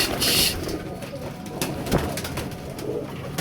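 Pigeons coo close by in a pen, soft throaty calls repeating over rustling and movement, with brief wing flutters and voices in the background.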